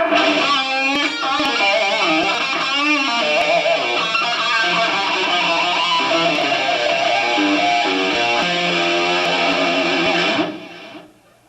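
A distorted electric guitar plays a fast lead lick of quick descending pull-off note runs, loud and continuous, with no voices, before it cuts off near the end.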